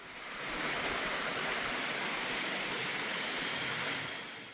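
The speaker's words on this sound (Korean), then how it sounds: "옥녀담 바로 옆에는 비룡폭포가 있습니다." The small Biryong waterfall in a deep forest valley beside a pool sends out a steady, full rush of falling water, fading in and out with no voices.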